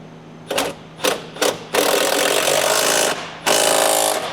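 Hammering on a part of a 2011 Ford F250 in a barn, with three short sharp bursts followed by two long sustained stretches of loud, dense metallic clatter, close and without talk.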